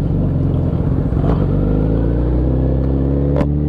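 A Hayabusa motorcycle, its chain freshly lubed, pulls off with a loud, close rumbling engine note that climbs steadily in pitch as it accelerates, with no talking over it.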